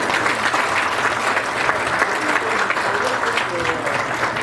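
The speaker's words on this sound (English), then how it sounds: "Let's give a round of applause for Kwan Week." An audience at a Lunar New Year community presentation breaks into loud, sustained applause, dense clapping from many people with voices and crowd murmur running underneath throughout.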